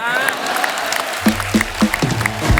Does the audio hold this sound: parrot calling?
no